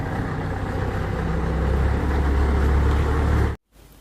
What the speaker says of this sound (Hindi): ये ट्रैक्टर कहाँ से आ गया?